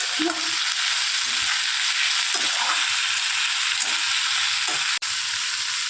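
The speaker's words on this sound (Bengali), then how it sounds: "এবার যাবে আমাদের গাজর, তারপর যাবে আমাদের বিন। চলো এবার নাড়তে হবে।" Carrots and beans stir-frying in a pan for spicy pasta make a steady, loud broadband sizzle, with a few soft stirring scrapes and a brief dropout near the end.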